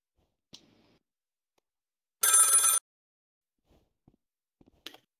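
A telephone in the Rec Room video game gives one short, bright electronic ring burst, surrounded by near silence and a few faint clicks.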